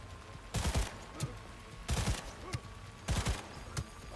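Gunfire from the Skippy smart pistol in Cyberpunk 2077, heard as three separate bursts of rapid shots spaced about a second apart, each one loud and close over a steady game background hum.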